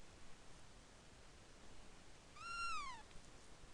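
A cat in the game Chrono Trigger gives a single short, falling meow against a quiet, hissy background.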